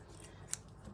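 Two quick, sharp metallic snips from scissors, close up and fairly quiet, spaced about half a second apart.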